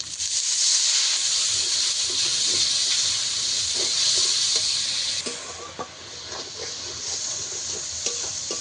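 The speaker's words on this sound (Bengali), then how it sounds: "সব কিছু একসঙ্গে আবারও ভালো করে ভেজে নেব" Turmeric, chilli and other ground spices fry in hot oil for a fish curry, giving a loud continuous hissing sizzle close up that eases slightly midway, with soft spoon scrapes and taps as they are stirred.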